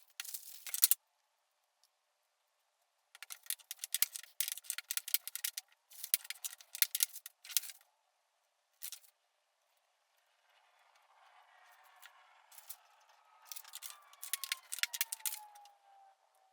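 Scissors or a cutting tool slicing rolled red fondant into small squares for a Minecraft-themed cake, heard as bursts of short, close snipping and tapping clicks, then a softer scraping stretch toward the end.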